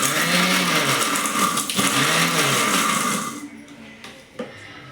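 A kitchen mixer grinder loudly whirs as it grinds peeled garlic, green chillies and rock salt. It runs steadily with a rattling churn, then cuts off partway through, leaving a quieter room with a few small knocks.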